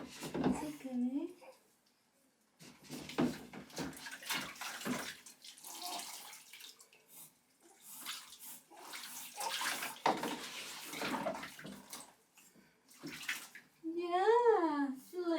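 Bath water splashes and pours as a mother washes her two-month-old baby's head in a baby bath, close and intermittent, with her soft voice talking over it and the baby crying out near the end.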